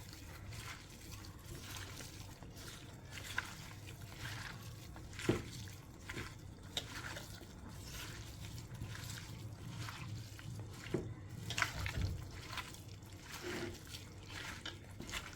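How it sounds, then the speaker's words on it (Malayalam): Squid roast being mixed by hand with masala, giving soft wet squishing and trickling sounds with scattered small clicks, close and fairly quiet. "ഇനി ഇത് എല്ലാം കൂടി ഒന്ന് മിക്സ് ചെയ്തെടുക്കാം. അത് നമ്മുടെ കൈ ഉപയോഗിച്ച് തന്നെ മിക്സ് ചെയ്തെടുക്കണം"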